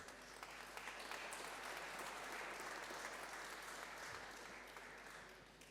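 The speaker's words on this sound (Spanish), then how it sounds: "quien recibimos con un aplauso también." Steady applause from a large audience at a Chilean forum, welcoming a senator, fills the whole stretch, dense and even, fading slightly at the end.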